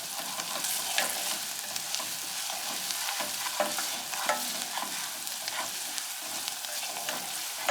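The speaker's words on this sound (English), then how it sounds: "I'm going to sprinkle some salt in it at this point over medium heat, and we'll cook the onions until they're softened." Onions sautéing with a sprinkle of salt over medium heat, a steady close sizzle and crackle with light scraping and stirring clicks throughout, no voices.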